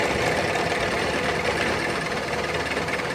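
A milling machine roughs out a slot in metal for a handmade Harley M8 motorcycle frame, the end mill zigzagging along the cut with a steady, loud whirring drone and no talking.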